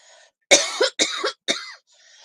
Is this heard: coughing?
yes